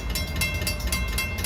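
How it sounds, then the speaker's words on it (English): An LIRR Ronkonkoma Line train, train 1960 from Penn Station to Ronkonkoma, at the Executive Drive grade crossing as the gates come down, with a loud, continuous rumble and rhythmic clatter for a short stretch. "the gates are going down at Executive Drive for train 1960, Penn Station to Ronkonkoma"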